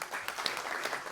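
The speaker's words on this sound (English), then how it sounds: "Yep, round of applause." Audience applause at a conference on patents and standards, a steady dense patter of many hands clapping for just over a second, moderately loud with no talk.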